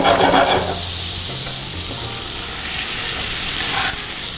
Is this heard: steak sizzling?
yes